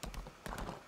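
Horse hooves clip-clopping during riding in Lost Ark, a quick, steady gallop of sharp hoofbeats, close and clear with no one talking over them.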